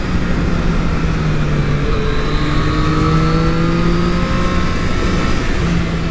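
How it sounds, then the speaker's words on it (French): Triumph Street Triple S A2 motorcycle engine, 2020 model, revving and pulling through gears, rising and falling pitch sweeps over a steady loud roar, close and alone without talk. "Ah quel plaisir ce moteur même en A2."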